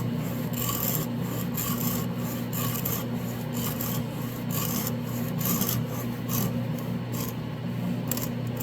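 A hacksaw cuts through a part on a Honda CB450 Nighthawk motorcycle, giving close, steady back-and-forth rasping strokes that continue without a break.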